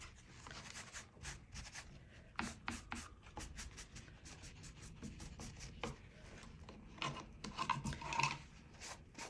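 Paper towel rubbed over craft paper to smudge it, a soft raspy scrubbing in short repeated strokes, quiet and close with no talk.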